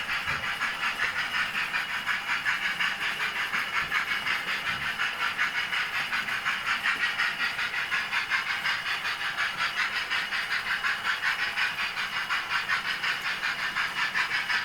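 Steam locomotive in the iTRAINS railway simulation game, a steady, loud hissing chuff with rhythmic rail clatter running continuously without a break.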